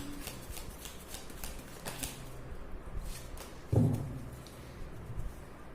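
A tarot deck being handled and shuffled, with light papery flicks and riffles, then a single soft thud from the cards, fairly close and without talk.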